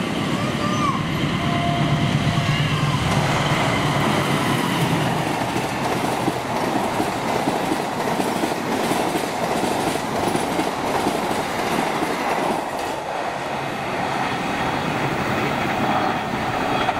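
The Argo Parahyangan passenger train passes close by with a loud, continuous rumble, rhythmic clickety-clack of wheels over rail joints and occasional faint wheel squeal.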